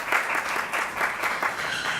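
Studio audience applause from a French-language television broadcast, a steady dense clapping that fills the whole moment at moderate loudness with no talk over it.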